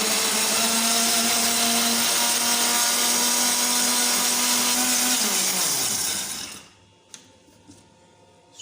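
Steady loud whir of a blender mixing strawberries and milk into a milkshake, running evenly for about six seconds before winding down to silence, then a couple of faint clicks.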